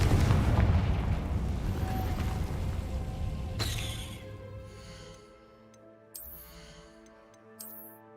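A Confringo fire spell explodes in Hogwarts Legacy with a dense, roaring blast that rolls on for several seconds before breaking off sharply, leaving a quieter magical hum pierced by two bright shimmering chimes.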